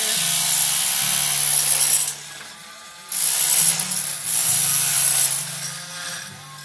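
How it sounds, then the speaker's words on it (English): A Sawzall reciprocating saw cuts out an old sliding glass door frame, loud buzzing rasps in two main bursts separated by a short pause, near and harsh, with no voices. "after all the dust is done, sawzall is done"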